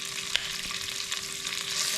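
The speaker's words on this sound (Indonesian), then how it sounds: "kalau minyak sudah panas, pertama kita masukkan dulu bumbu yang kuning ini" Yellow spice paste for rendang frying in hot oil in a wok: a close, steady sizzle with a few sharp pops and crackles.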